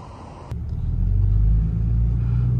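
A 2008 Ram 2500 pickup truck engine, restarted after running out of fuel, catches at about half a second and settles into a steady, low rumbling idle, close by, with no voices.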